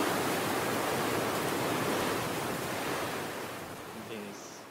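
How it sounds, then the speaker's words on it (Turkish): Sea waves wash onto a beach in a steady, loud broadband roar that eases slightly toward the end, with no voices over it. "Deniz."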